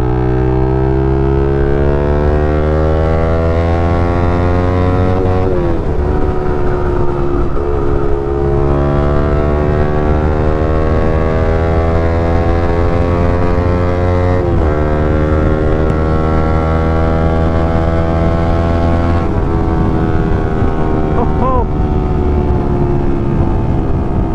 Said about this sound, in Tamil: ஆக்சுவலாக எக்ஸாஸ்ட் நோட்டுக்காக தான் இந்த வண்டியை நான் எடுத்துகிட்டே வந்தது